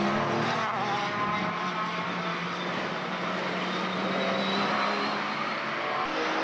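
A Reynard race car drives steadily along the track at Mondello, its engine a continuous loud drone that holds for several seconds without a break.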